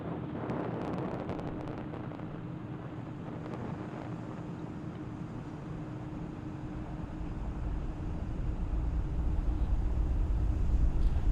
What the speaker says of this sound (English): Falcon 9 has successfully lifted off from Launch Complex 39A, carrying our 53 Starlink satellites